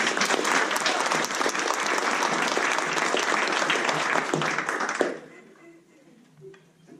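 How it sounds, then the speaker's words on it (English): Audience applause rings out at a level 1 class show, dense and steady clapping for about five seconds before it abruptly dies away into quiet room tone with a few faint stray sounds. "let's give them a round of applause"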